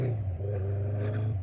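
A BMW K100 motorcycle engine revs briefly and shifts from first to second gear, giving a short, close mechanical drone that dips for a moment and then carries on.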